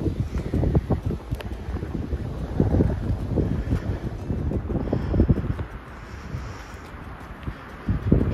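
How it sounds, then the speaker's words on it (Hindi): Evening wind in Skardu buffets the microphone with a rough, continuous rush and uneven gusts, strong throughout and easing slightly toward the end. "शाम के वक्त अस्करदू में और कचूरा में तकरीबन हर रोज़ बहुत अच्छी हवा चलती है।"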